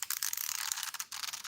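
A LingL BFS fishing reel being taken apart gives off quick, close ratcheting clicks in rapid bursts, with a brief pause partway through and no talking.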